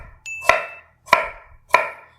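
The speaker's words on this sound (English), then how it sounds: "I'm just going to do some nice chunks and just chop it up" Three sharp knife chops through onion on a cutting board, evenly spaced about half a second apart, close and crisp with short decays and no talking.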